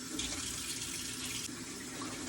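Tap water runs steadily into a sink while black live crabs are washed, a continuous close splashing stream with no voices.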